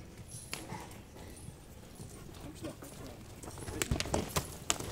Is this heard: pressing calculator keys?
no